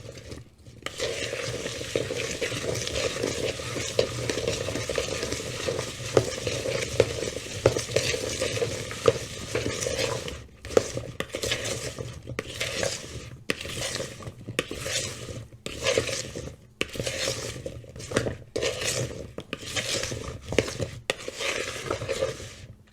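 A spoon stirs oiled sweet potato fries seasoned with turmeric in a bowl, producing repeated close scraping, tossing and clinking strokes that run steadily, then break into shorter bursts with brief pauses.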